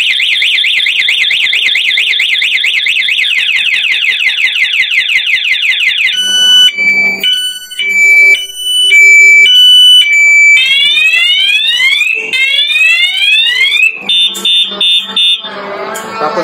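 A Honda Beat Fi motorcycle alarm system sounds its second, louder and longer cycle, warbling electronic siren tones that switch to choppy beeps, chirps and rising sweeps, loud and close with no talking.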